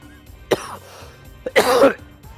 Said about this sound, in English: Why am I having this coughing fit